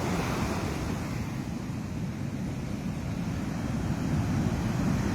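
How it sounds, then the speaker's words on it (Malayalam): Rough sea waves keep surging onto the Kerala shore, a dense steady roar of surf mixed with wind rumble on the microphone, with no voices. "തിരമാലകൾ ഇങ്ങനെ കയറി കയറി വരുന്നത്"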